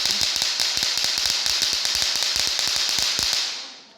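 Rapid string of sharp firecracker-like cracks from a remote-operated device built by students, loud and close, popping irregularly for about three and a half seconds before cutting off, with no talk over it.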